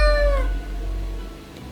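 A cat in the Death and Taxes video game lets out a single clear, drawn-out meow that tails off, with no other sound around it.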